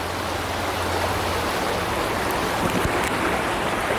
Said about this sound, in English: I'm gonna say this is a brook.